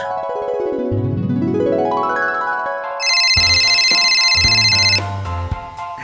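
A phone ringtone rings on an unanswered call in an animated Granny vs Scary Teacher 3D scene: a rising electronic melody, then bright repeated ringing tones, loud and close with no talk.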